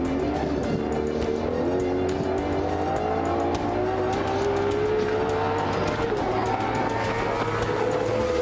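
A limited-edition Ferrari V12 car drives up, its engine loud and close, pitch climbing steadily through the gears.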